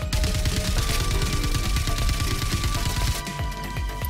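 Dense, continuous gunfire from weapons in the Star Citizen Star Marine first-person shooter mode, rapid overlapping shots and bursts filling the whole stretch at steady loudness with no talk.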